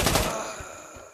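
Gunfire in the video game Trouble in Terrorist Town, a loud burst of rapid shots at the start that decays into a fading ringing tail, with no talking over it.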